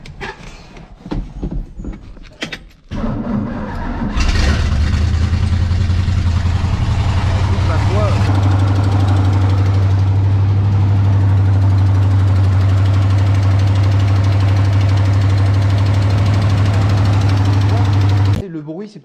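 Engine without an air filter cranking with rough sputters, then catching and settling into a loud, steady idle for about fourteen seconds before stopping abruptly.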